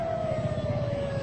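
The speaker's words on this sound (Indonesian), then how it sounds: "ada lagi satu lagi tambahan ambulans yang datang" An ambulance siren wails steadily at a street intersection in central Jakarta near Sarinah on Thamrin, a single sustained tone holding loud and fairly near over a low traffic rumble.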